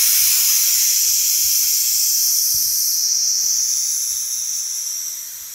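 A loud, steady hiss of compressed air rushing out, continuous and close, slowly tapering off toward the end.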